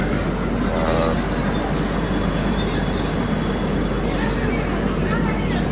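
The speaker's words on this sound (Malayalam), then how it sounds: "രാജധാനി വാസായി റോഡ് റെയിൽവേ സ്റ്റേഷനിലെത്തി" Rajdhani Express train (Trivandrum to Jammu) at Vasai Road railway station: a steady, loud rumble and hum heard from aboard the first AC coach, continuous throughout, with people talking over it.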